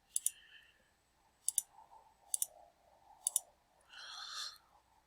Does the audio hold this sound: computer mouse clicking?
yes